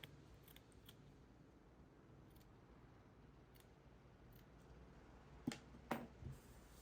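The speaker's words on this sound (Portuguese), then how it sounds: "Puxo aqui, vou aparar as pontinhas agora." A few faint, close snips of scissors trimming the thread ends of a small crochet garland sound near the end, set against a quiet room.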